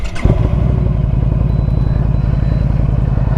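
A Yamaha VStar 1300 Deluxe motorcycle engine cranks once with a thud and catches on the first try, settling into a loud, steady, throbbing idle close by.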